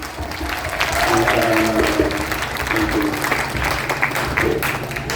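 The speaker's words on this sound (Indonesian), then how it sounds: "Betul, tepuk tangan." Audience at an Islamic religious lecture claps in a broad steady patter, with faint tonal voices or sounds mixed underneath.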